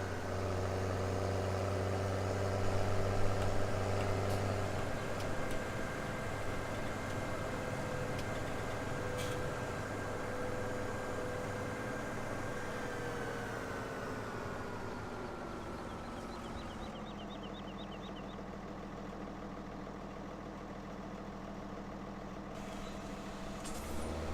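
Front end loader tractor engine in the Farming Simulator 2017 video game hums and idles steadily with a low drone, then shifts pitch as it works, with no talking.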